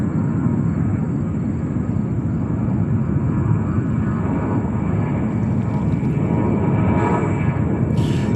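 An airliner, likely an Airbus A380, passes at New York's JFK airport, its loud continuous engine roar rumbling steadily throughout with no talk.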